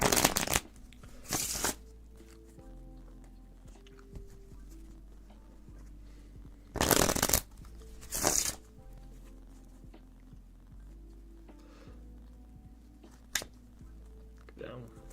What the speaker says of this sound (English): shuffle these cards, give these a nice good shuffle.